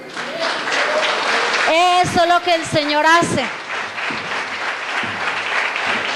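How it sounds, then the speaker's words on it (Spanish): Congregational applause at a Spanish-language church service, a steady loud roar of many hands clapping throughout while a preacher's voice speaks over it in the middle. "¿Cuánto le dan un aplauso al Señor?"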